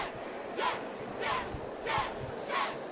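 Courtroom crowd murmuring from the Ace Attorney: Apollo Justice Trilogy video game repeats as four evenly spaced chattering bursts, fairly faint and quick.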